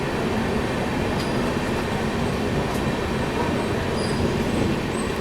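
Express train running through Tirupati West station without stopping, a steady loud rumble of wheels and carriages with faint squeals, heard close and continuous with no talk.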